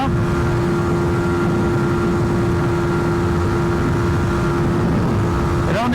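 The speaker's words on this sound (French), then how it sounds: "Mais la moto elle continue de garder cette vitesse, je suis à fond hein." Yamaha R125 motorcycle engine at full throttle on the road around 120 km/h, a loud steady high-pitched drone with heavy wind rush, held constant throughout.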